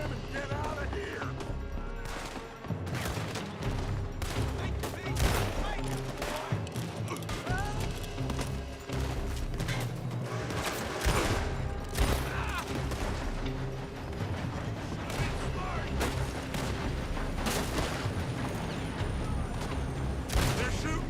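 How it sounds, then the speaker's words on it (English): Dense, rapid gunfire fills a shootout in Red Dead Redemption, with shots from a building cracking loudly and repeatedly in near-constant bursts. Raised voices shout over the fighting throughout. "They're shooting from that building!"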